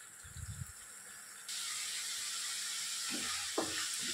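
Masala paste frying in oil for a mango fish curry: quiet at first with a few soft knocks, then a steady bright sizzling hiss that holds to the end, with a couple of muffled taps near the close.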